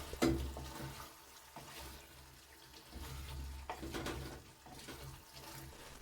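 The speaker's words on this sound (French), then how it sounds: "Puis, on laisse notre carotte bien revenir. On mélange délicatement." Sliced carrots sautéing in a pan for an Algerian carrot salad, stirred gently so they scrape and clink against the metal, with a low steady sizzle and a few bursts of movement. No one speaks.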